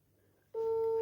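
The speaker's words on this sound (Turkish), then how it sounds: "Çalıyor ama açmıyor." A phone call rings unanswered: after a short quiet moment a steady electronic ring tone switches on loud and holds to the end.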